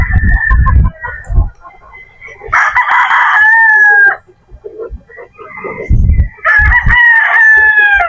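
Boston Black roosters crowing at close range, two long loud calls with sustained drawn-out tones separated by a pause, with scattered clucks and farm noise between them.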